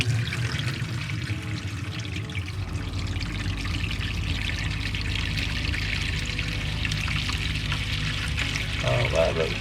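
Hot water runs steadily from a tap after a Truma Combi boiler element repair, a continuous pouring splash that holds at an even level throughout.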